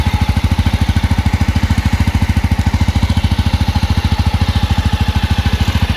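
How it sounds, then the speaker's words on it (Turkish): A 2024 Jawa 300 CL motorcycle engine idles steadily with a rapid, even exhaust pulse, close and loud, running alone without any change in pace. "Biraz egzoz sesine bakalım."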